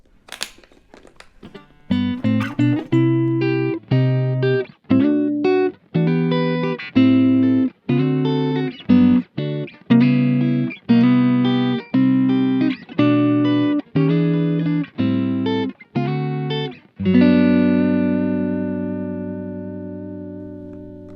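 A clean electric guitar through a Kemper profiler using a Kingsley Deluxe 30 profile with a 4x12 Celestion V30 cabinet IR, no reverb, plays a steady sequence of strummed chords, each ringing briefly before the next, ending on a long sustained chord.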